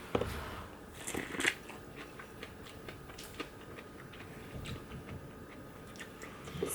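Flamin' hot corn on the cob being bitten and chewed up close, with scattered crisp crunches and softer chewing between them, fairly quiet and without talk.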